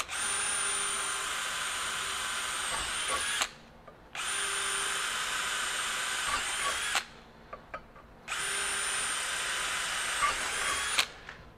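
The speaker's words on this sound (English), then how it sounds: "So it should not be any issue in drilling steel." A DeWalt DCD794 Atomic 20V brushless stubby drill on high speed bores into steel in three long, steady, close whining runs separated by short pauses.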